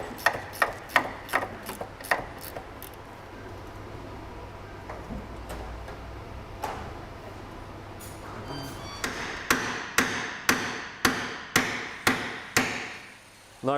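Hammer blows on a seized suspension part of a Porsche 986 Boxster S, a rapid burst of sharp metallic strikes at the start and another steady run of about nine close, loud hits near the end, with a quieter stretch between.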